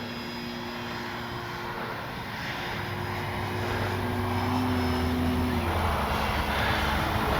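FMS Ranger 1800mm RC plane in flight on a calm day, its electric motor and propeller giving a steady whine that swells slightly in loudness and pitch as it passes, heard alone from a moderate distance.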